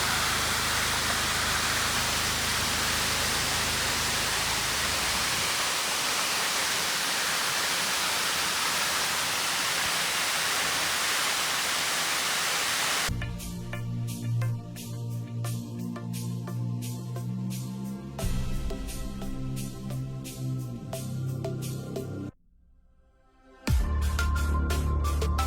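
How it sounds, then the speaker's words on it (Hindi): A waterfall on the Tungnath trek in Uttarakhand roars loud and steady for about half the time, a dense close rush, before giving way to quieter mixed outdoor sounds with a brief near-silent gap. "क्या वाटरफॉल है यार, और आवाज़ सुनो इसकी।"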